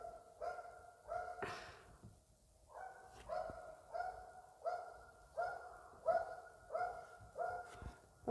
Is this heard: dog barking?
yes